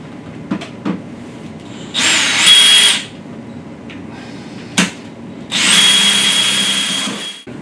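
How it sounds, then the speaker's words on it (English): A power drill with a starter bit and a step bit cuts a hole in the top of a machine. Two loud, sustained whining bursts, each about a second or more, are separated by quieter clicks and handling knocks. "Using a starter bit and your step down bit, you'll be able to make those holes."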